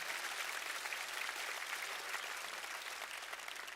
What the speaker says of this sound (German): Ich fordere Applaus heute Abend